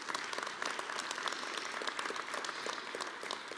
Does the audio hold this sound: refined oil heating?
no